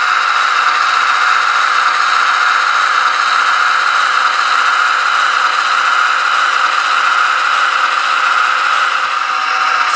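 An Athearn Genesis GP38-2 model locomotive runs under throttle. It gives a steady, loud whirring motor hum with a faint rattle that stays even and continuous throughout, with no talking.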